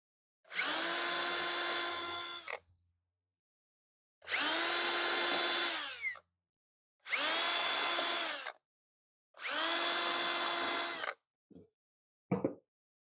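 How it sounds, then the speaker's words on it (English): Power drill bores screw and drain holes through wood in four loud, separate bursts of whining motor, each lasting around two seconds, with short silences between and a few faint clicks at the end. "we're going to drill through the bottom for our screw, and then a couple of drain holes, and then we're going to pre-drill for the mounting screws"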